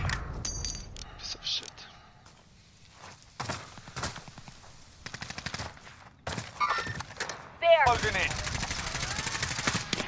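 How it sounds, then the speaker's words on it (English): Gunfire in a first-person video game shooter, coming in scattered bursts of rapid shots and single cracks with quieter gaps between, ending in a louder sustained volley, with voices at times. "Oh, I'm getting shot from the right."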